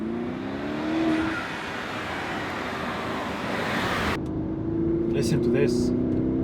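Inside the cabin of a BMW X7 50i M Sport, its 4.4L V8 engine gives a low, steady, muffled drone with a slight rise in intensity, heard under someone talking.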